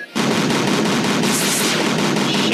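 Rapid, continuous weapons fire at a UFO in the video game UFO: Extraterrestrials, a dense burst of automatic shots that starts abruptly and keeps going, loud and close.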